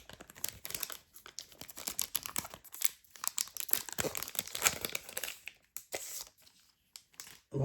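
A Pokémon card booster pack from the Stars étincelantes set is torn open by hand, giving close, loud bursts of crinkling, ripping foil wrapper with brief pauses between handfuls.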